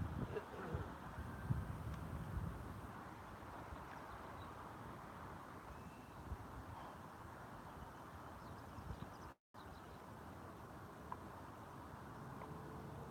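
Wind buffets the microphone during a drone flight outdoors, a low continuous rumble and rush that stays steady throughout, with one brief dropout near the end.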